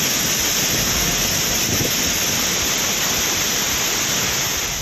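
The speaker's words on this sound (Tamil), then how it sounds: "தென்காசி மாவட்டம் குற்றால பிரதான அருவியில் வெள்ளம் பெருக்கெடுத்து ஓடியது" Courtallam's main waterfall in Tenkasi district roars in flood after monsoon rain, a loud, unbroken wash of rushing water that stays constant from start to finish.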